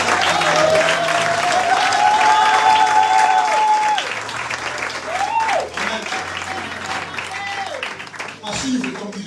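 A church congregation applauds and cheers loudly, steady clapping filling the space with a sung or sustained voice and music over it.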